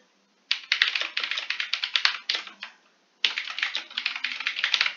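Typing on a computer keyboard while filling in a condo lease form, steady rapid key clicks in two bursts with a short pause between, close and fairly quiet.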